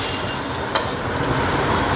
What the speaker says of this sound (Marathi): आता आपले पोहे भाजताना आपण तेल टाकलेलं आहे कढईमध्ये।